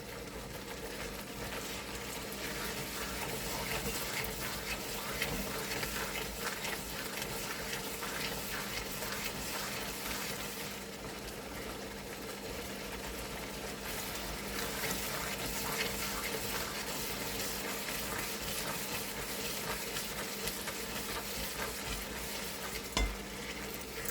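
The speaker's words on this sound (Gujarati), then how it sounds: "બધું પાણી બળી જાય ત્યાં સુધી આપણે હલાવવાનો છે." Carrot halwa is stirred steadily in a pan over a low gas flame as its water cooks off, giving a continuous close sizzle with soft scraping strokes and no talking.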